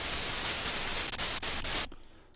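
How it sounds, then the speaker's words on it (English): A steady hiss of white noise from Ableton Live's Operator synthesizer plays loud and flat, broken by a few brief dropouts, then cuts off abruptly, leaving a faint fading tail. "So that's white noise."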